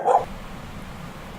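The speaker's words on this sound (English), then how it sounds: "That's my censoring sound I've come up with, is a dog bark." A single short dog bark, used as a censoring sound effect, sounds loud and close at the start and then gives way to a low background hum with no speech.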